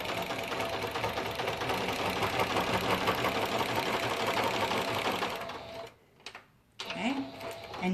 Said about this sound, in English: now I'm going to go over this with my decorative stitch